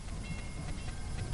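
A train rolls past nearby, a steady low rumbling roar with a faint rattling texture that fills the background throughout, no voices over it.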